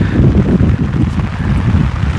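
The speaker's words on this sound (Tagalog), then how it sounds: "may hangin na yung ulan." Heavy wind rumbles against the microphone in a steady, low roar, with a faint patter that could be rain underneath.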